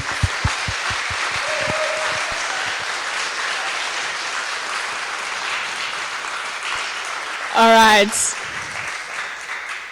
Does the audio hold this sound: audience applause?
yes